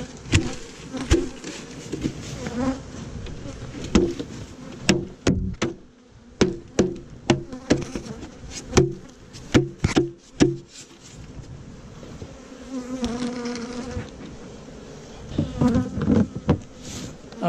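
Honeybees buzz close by while hives are moved from nucleus boxes into full hives. A steady insect drone runs throughout, broken by frequent sharp wooden knocks and clacks of frames and boxes being handled.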